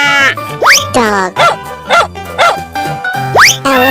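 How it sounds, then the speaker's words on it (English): Repeated cartoon dog barks and yips in a bouncy, rhythmic series, loud and close, with no talking over them. "Dog."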